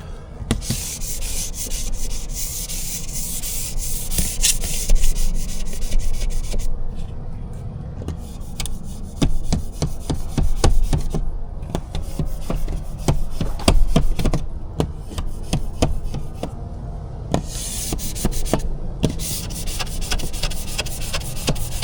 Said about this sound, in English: Scraping sound you hear is the hard water because it's calcium